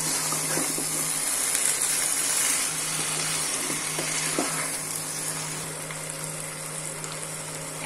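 Moong dal sizzles as it is stirred and fried in a pan, a loud, continuous crackle with intermittent scraping of the spoon throughout.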